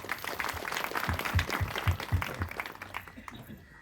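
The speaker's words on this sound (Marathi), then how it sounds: "पहिल्यांदा जोरदार सगळ्यांनी टाळ्या वाजवा" Audience applause at an organization's third anniversary gathering, a burst of clapping from a crowd that swells with several strong claps, then thins and fades out near the end.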